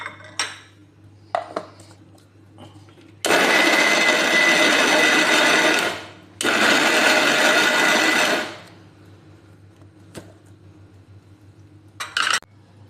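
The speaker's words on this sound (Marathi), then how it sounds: "चिकन मिक्सरला ग्राइंड करून घेतलेला आहे।" A kitchen mixer grinder blitzing boiled chicken with bread crumbs, chili sauce, chili flakes and salt, two loud steady whirring bursts of a few seconds each with a short pause between, then quieter clinks and handling sounds.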